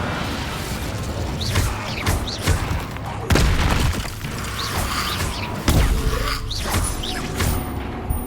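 An Incendio fire spell cast in the Hogwarts Legacy video game produces repeated whooshing bursts and booming impacts, with several sharp hits standing out amid a busy, mechanical background of game effects.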